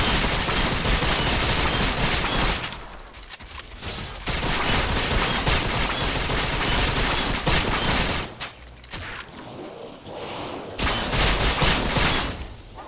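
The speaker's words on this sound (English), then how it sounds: "So many ricochet shots are flying through." Dense, rapid ricochet gunshots from the game Vindictus crackle almost nonstop, loud and up close. Heavy volleys are broken by a few short lulls.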